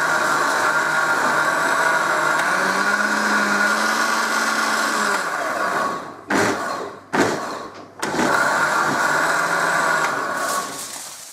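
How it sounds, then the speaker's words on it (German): A kitchen blender whirs loudly and steadily as it blends a pina colada smoothie, cutting out briefly three times with thumping restarts before running on again. "das kommt alles in den Mixer"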